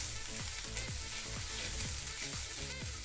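Onions with ginger garlic paste sizzle steadily in a pan, with soft periodic scraping as they are stirred, a close and continuous frying hiss.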